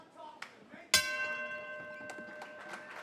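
A boxing round-ending bell in a charity fight rings once sharply and loudly, its metallic tone ringing on and slowly decaying over crowd murmur and low voices.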